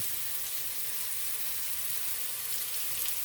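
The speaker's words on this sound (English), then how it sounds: "I have one in the frying pan. And as you see, it's just coming along." Pork chop frying in a frying pan for Southern smothered pork chops, a steady close hiss of sizzling fat with no breaks and no talking.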